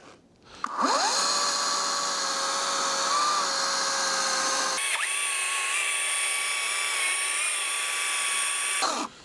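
A Ryobi 40V HP battery chainsaw cuts through tough logs with a loud, steady high-pitched electric whine that dips under load. It stops briefly midway, restarts and runs on before cutting off, with no talking.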